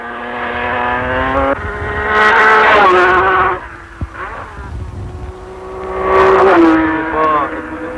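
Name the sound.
Matra 650 race car driving on an airfield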